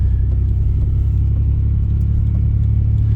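A project car's engine, in need of power steering fluid, idles steadily nearby with a deep, even rumble and slight throb, alone and unbroken throughout.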